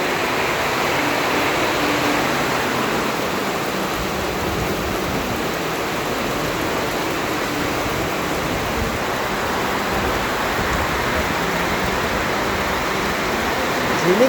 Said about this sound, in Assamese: এনেকুৱাই বৰষুণ দিছে ডাঙৰকৈ।